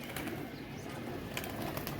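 Pigeons in a home loft coo softly amid faint wing flutters, a steady low murmur of bird sounds with no talking.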